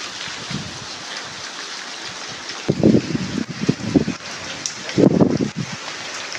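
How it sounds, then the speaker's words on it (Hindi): Steady rain pours with a constant hiss, and gusty rumbles of wind surge through it in bursts. "तूफानी बारिश"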